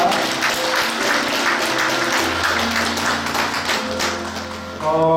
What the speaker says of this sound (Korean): 여러분 뜨거운 격려의 박수 한번 해주시기 바랍니다.